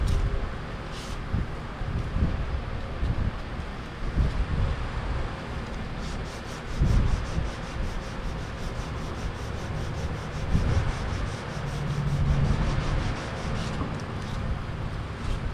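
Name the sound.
sanding body filler off a paint run on car bodywork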